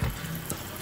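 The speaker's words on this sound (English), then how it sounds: "And then start running some cold water." Cold tap water runs steadily from a faucet over fresh strawberries in a sink, a short, even splashing rush that is close and continuous.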